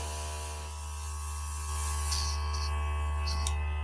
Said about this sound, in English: shake it up, and then I spray it all out